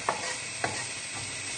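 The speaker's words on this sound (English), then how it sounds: "So we'll just give these shallots another little stir" Shallots are stirred in a sizzling pan, with two or three sharp scrapes of the utensil over a steady, fairly loud frying hiss that runs throughout.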